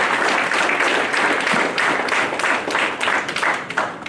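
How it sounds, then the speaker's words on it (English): Loud, dense applause from an audience at the AIIMS Bibinagar foundation day event, celebrating 7 lakh outpatient consultations, sustained and even for the whole stretch. "let's clap and celebrate 7 lakh OPD consultations"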